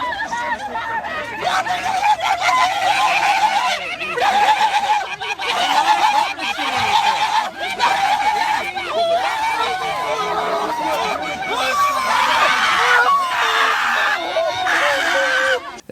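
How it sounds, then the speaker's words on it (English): Crowd of voters arguing, with people screaming and hooting over dense babble and shouting, loud and continuous throughout. "They just start screaming and making hooting sound."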